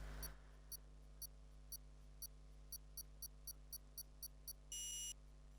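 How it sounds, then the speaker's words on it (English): Countdown beeps before a Formula-style sim race start at the China round: a series of short, evenly spaced electronic beeps ending in one longer tone, heard over a steady low engine hum. "we can hear the beep, the countdown has begun."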